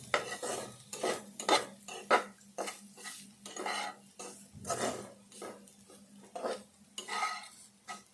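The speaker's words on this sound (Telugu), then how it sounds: "ఇప్పుడు ఈ క్యారెట్ తురుము ఇందులో వేసుకుందాము. ఈ నెయ్యిలో వేపుకోవాలి." Grated carrot frying in ghee while a spoon stirs it around the pan for carrot laddu, rhythmic scraping and clinking strokes over a faint sizzle, close up and soft, no one speaking.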